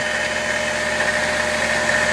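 A 72V 2200W DC electric motor runs at full speed on 48 volts, giving a steady, loud mechanical hum with a constant whine and no rise or fall, alone without voices.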